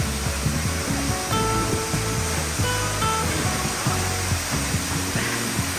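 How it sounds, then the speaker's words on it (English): Kiki Waterfall in Panama, the country's largest falls, roars as a constant broad rush of falling water, loud and unbroken, with some low tonal hum layered underneath throughout. "Look at the size of this waterfall."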